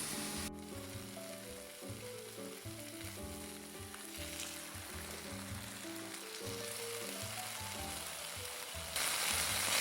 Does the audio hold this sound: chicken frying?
yes